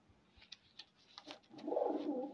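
A high flyer pigeon gives a soft, low cooing call near the end, following a few faint clicks and rustles in an otherwise quiet space.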